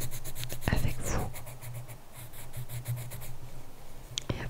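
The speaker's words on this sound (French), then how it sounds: "Je vais juste terminer de colorier ces espèces de petits bourgeons avec vous." A light pink colouring pencil scratches softly across paper as small buds are coloured in, in steady close strokes with soft whispering in between.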